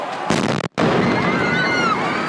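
Bomb explosions at a marathon finish line in Boston: a loud, sharp blast cuts in, followed by a brief silence and then a long rumbling, crackling roar that fills the whole clip.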